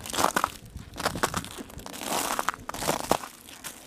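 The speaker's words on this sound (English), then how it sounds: "This is literally just a sheet of ice." Ice-coated grass blades crunch and crackle underfoot on a winter lawn, a run of loud, close, irregular crushing steps with sharp brittle snaps and no talking.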